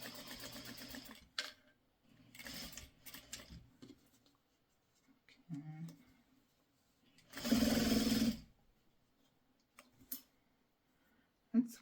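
A sewing machine stitches a quilt seam from pre-cut canning jar quilt kit fabric in short whirring bursts separated by quiet pauses, one longer steady run near the end, with light clicks of fabric handling.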